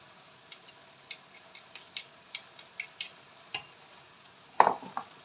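Rice being stirred in a pot as the water cooks off, a series of light, evenly spaced clicks and taps from the spoon, ending with a louder cluster of scrapes, quiet and close.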